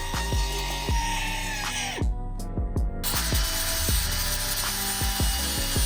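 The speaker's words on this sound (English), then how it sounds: "using the ratchet strap to ensure that the link fits back into the mount" A ratchet strap is cranked to pull a damaged lower link back into its mount before welding, giving a steady run of metallic clicks and ringing clanks close by with no talking.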